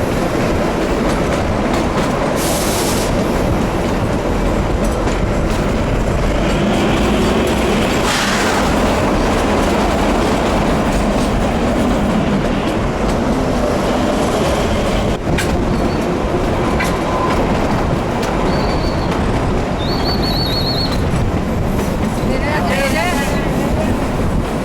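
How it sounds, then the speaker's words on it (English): A Himalayan narrow-gauge train runs on its tracks, a loud continuous rattle and rumble of wheels and carriages close by, with squeals and clanks breaking through now and then. "be the prettiest train I've ever seen."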